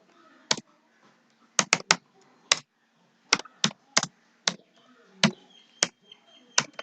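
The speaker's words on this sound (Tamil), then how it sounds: "நான் சும்மா டைப் பண்ணுறேன்." Keystrokes on a computer keyboard while typing a command in Windows Command Prompt, about a dozen sharp, separate clicks in irregular bursts, close and fairly quiet against a silent background.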